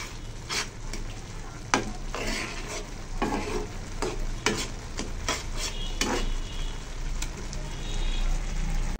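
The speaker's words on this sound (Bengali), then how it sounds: "আর আমি এবার নুডলস রান্না করতেছি।" Noodles frying and being stirred in a home pan give a steady sizzle, with sharp scraping strokes of the utensil at irregular intervals. The sound is close and continuous, and no one talks.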